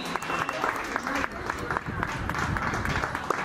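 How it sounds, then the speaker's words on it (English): Sustained applause from a crowd for a medal winner at a school ceremony, steady dense clapping throughout with a voice speaking over it. "Come on, let the claps go on."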